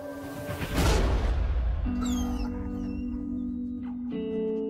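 A dog whimpers and gives high yips, starting with a rising whine, then a sustained nasal whimper and a few sharp yelps near the end, close and fairly clear.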